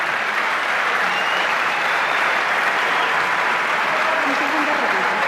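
Sustained, loud audience applause fills the room during a televised Chilean presidential debate, steady dense clapping with no break across the whole stretch.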